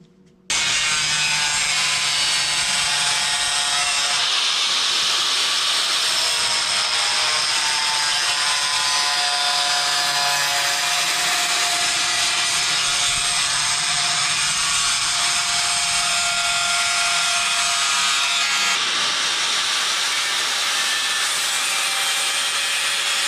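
Loud power tool cutting out a welded metal section during an RV dashboard rebuild, a harsh, continuous high-pitched whine that runs for over twenty seconds with brief shifts in tone near the start and end, close to the microphone.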